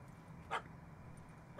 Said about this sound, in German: Ich beruhige den Hund.